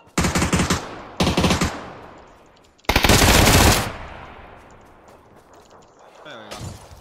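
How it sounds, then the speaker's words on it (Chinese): Automatic gunfire in a video game, loud close bursts of rapid shots that start and stop, then one heavy sustained volley that echoes and fades, with faint voices near the end. "听我马路边怎么一个枪声？"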